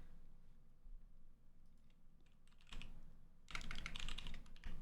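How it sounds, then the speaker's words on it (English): Soft keystrokes tapped on a computer keyboard, quiet and sparse at first, then growing into faster, louder runs of clicking near the end. "Hold on, I'm typing it."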